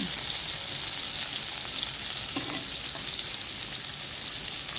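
Crushed garlic sizzles beside a rib eye steak in a hot pan, a dense, loud, unbroken frying hiss with a brief faint clink midway.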